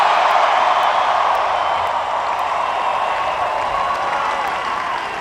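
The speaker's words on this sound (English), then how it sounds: "A massive crowd in Grant Park in Chicago erupted in jubilation at the news of Obama's victory." A massive crowd in Grant Park, Chicago, roars and cheers over Barack Obama's election victory, a steady and dense wash of applause and shouting that holds loud throughout with no break.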